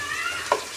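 Tomatoes and onions with turmeric and salt sautéing in a pan, a steady soft sizzle with a stirring scrape partway through, close and alone.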